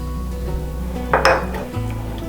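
A utensil stirs milk and heavy cream into cooked flour in a pan, making a short cluster of scraping and clinking against the pan over a low background hum.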